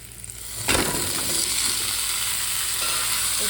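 Vegetables (pumpkin, drumstick, ridge gourd, carrot, green chili) hit hot oil in a pan with a sudden burst of sizzling that settles into a steady, close, hissing fry.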